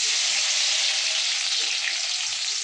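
Ingredients hit hot oil for egg rice and set off a loud, steady, close sizzle that runs unbroken the whole time with no talk over it.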